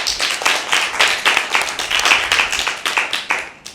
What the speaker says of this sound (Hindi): मीरब के लिए भरपूर तालियां बजाएं